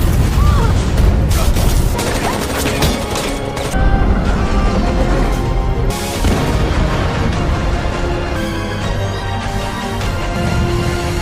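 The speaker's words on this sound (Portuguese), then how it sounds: "Uma intensa troca de tiros entre a Capitã Jung, os robôs guardas e Sang-hun se seguiu." A film battle scene with an intense exchange of gunfire between robot guards, a police captain and fighters. Dense bursts of shots, booms and crashes pile over a constant loud roar, with brief gaps between volleys.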